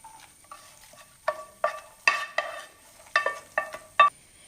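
A ladle stirs fried ingredients into a pot of Onam payasam, giving about ten sharp scraping knocks against the pot in an uneven rhythm, close and clear with a quiet background.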